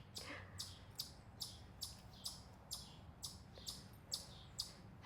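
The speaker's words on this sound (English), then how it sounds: "Hear the chipmunk?" A chipmunk chirps outdoors in a quick, regular series of about ten sharp high chips, evenly spaced and fairly faint over quiet background noise.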